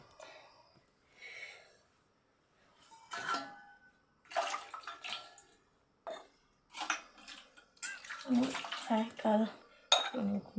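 Dishes and pots are washed with water in irregular bursts of clinking, clattering and splashing, close by, with a voice talking in between.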